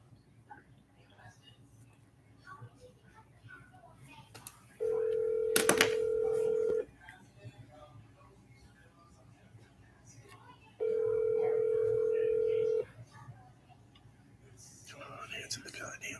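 A telephone rings twice in long steady electronic bursts during a live sports talk show broadcast, with low background noise and faint talk between the rings.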